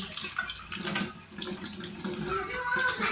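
Water runs from a tap in a steady splashing stream, with dishes being rinsed and handled underneath, close by.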